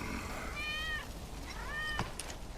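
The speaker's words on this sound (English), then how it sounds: "That's Wedge's cat." A cat meows twice in Final Fantasy VII Remake, each call a clear rising-and-falling mew, the second slightly longer, heard over a low game ambience with a faint thud near the end.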